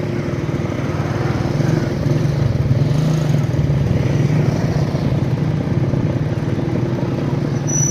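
A motorcycle engine runs steadily close by in a village street, its low, even drone holding without a break the whole time, with no talk over it.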